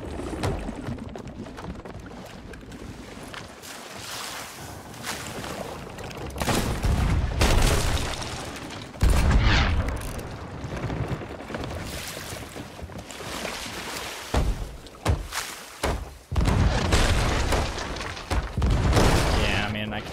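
Cannon fire from an enemy ship in the sea battle game Sea of Thieves strikes around a lone sloop, sounding as repeated heavy booms and bursts amid sloshing water while someone talks over it.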